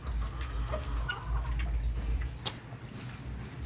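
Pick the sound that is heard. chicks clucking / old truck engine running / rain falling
chicks clucking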